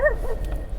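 Dog giving a single short, close bark, loud and alone.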